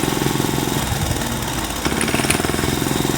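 Tractor engine running, a continuous rhythmic low chugging with a steady pulse, close and fairly loud, briefly dipping then resuming, with no talk.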